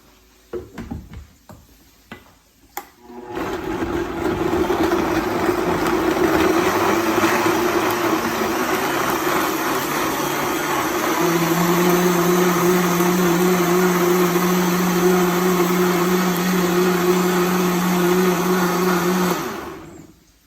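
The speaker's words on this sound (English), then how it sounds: "So I have all my ingredients for my salsa in the blender, and I have a piece of onion that I added" A kitchen blender whirs steadily for about seventeen seconds, loud and continuous, blending roasted jalapeños and onion for salsa verde, after a few clunks and taps as it starts; a higher tone joins partway through.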